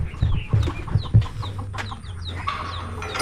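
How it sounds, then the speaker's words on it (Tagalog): High, thin cheeping of newly hatched chicks, repeated short chirps over nearby clucking hens, fairly close and steady. "May mga sisiw tayo naririnig."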